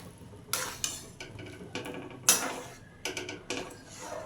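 Vermicelli payesh being stirred in a pot, a string of close, sharp scraping clinks of a spoon against metal at an uneven rhythm, no talking.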